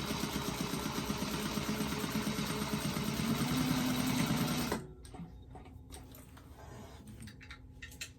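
A sewing machine runs steadily and loudly, stitching back and forth over zipper tape while making a bag, with a rapid mechanical chatter that stops abruptly partway through, leaving quiet room noise and faint handling sounds.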